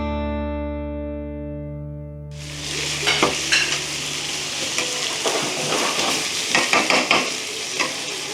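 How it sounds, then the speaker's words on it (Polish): Chicken liver and other foods sizzle loudly in a hot pan, with scraping and stirring clicks over the constant crackle, after a fading electronic hum. "różne, różne rzeczy smażymy w tej chwili"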